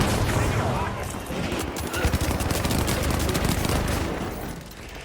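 Sustained rapid turret gunfire in the video game The Finals, a dense, loud stream of shots lasting nearly the whole moment before tapering slightly at the end, with chatter mixed underneath.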